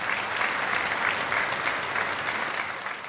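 An opera-gala audience in a Pesaro piazza gives a sustained burst of applause, with thick, even clapping from a large crowd that fades slightly toward the end.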